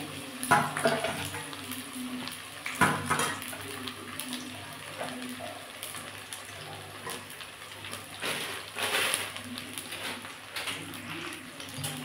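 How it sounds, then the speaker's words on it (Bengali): Pointed gourd pieces fry in hot oil in a wok, producing a soft, continuous sizzle with occasional louder bursts and light stirring sounds, fairly faint overall. "কড়ার মধ্যে পটলগুলো দিয়ে দিলাম"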